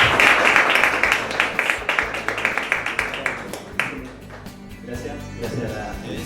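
An audience at a live event in a Puerto Canopus venue gives sustained applause, with dense clapping that fades toward the end as a voice begins speaking over it.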